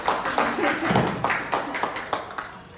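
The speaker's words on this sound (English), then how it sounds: "Big applause" An audience at a live stage event in Gosford, Australia claps in uneven bursts, fairly close and moderately loud, with a voice mixed among the claps.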